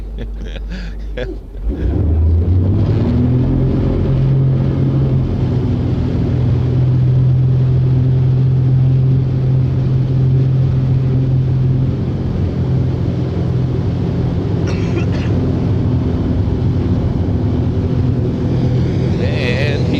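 A ski boat engine runs steadily on a lake in winter, a loud continuous low drone that settles in after about two seconds, with wind buffeting the microphone and people talking over it.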